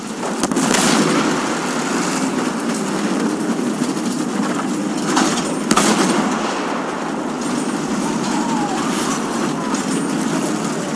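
A tank engine from the Battlefield 1 video game rumbles steadily as the vehicle churns through mud, with loud constant low drone and scattered distant gunfire bursts throughout, no talk.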